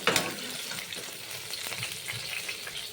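Rohu fish pieces frying in oil with onions crackle and sizzle close up, a dense steady frying hiss with light stirring scrapes.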